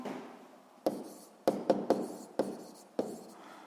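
Pen strokes on paper at a school physics lesson, about six short, sharp scratchy marks in an uneven rhythm, close and fairly quiet, with no voices.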